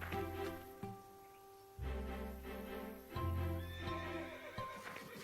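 A cartoon horse whinnies loudly several times, high shrill neighs with harmonic tones, alongside some hoof clatter in a stable; no one speaks.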